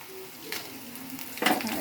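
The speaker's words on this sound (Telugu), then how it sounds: "ఎండుమిర్చి నూనెలో వేసుకుంటే చాలా బాగుంటాయి అందుకే నేను వేసుకుంటున్నాను" Dried red chillies frying in oil hiss softly at first, then a louder burst of crackling and stirring clatter rises toward the end.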